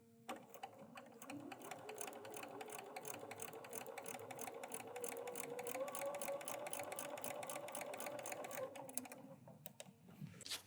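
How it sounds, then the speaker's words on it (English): A sewing machine runs steadily for about ten seconds, stitching quilt pieces along a marked red line, its rapid even needle rhythm close and continuous before stopping. "So now we're ready to sew."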